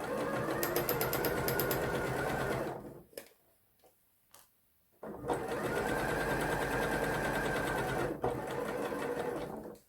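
A sewing machine runs in a fast, steady stitching rhythm while sewing a quarter-inch seam in fabric, then stops for about two seconds and starts again, loud and close.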